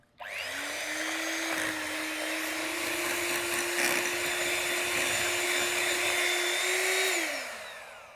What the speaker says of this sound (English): And into the eggs, I'm going to be adding our vanilla. I'm going to give this all a good whisk.